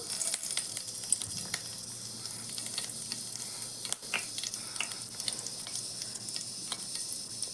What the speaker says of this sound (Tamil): சூடாகிட்டு இருக்கு இப்போ கடுகு சோம்பு தாளிச்சிக்கலாம்